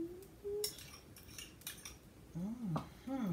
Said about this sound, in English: So we're just going to stir that together.